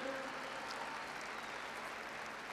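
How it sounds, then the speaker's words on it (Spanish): An audience at the Viña del Mar festival applauds in a dense, continuous wash of clapping that holds steady and fairly loud throughout. "Me gustaría que todo el aplauso fuese uno solo."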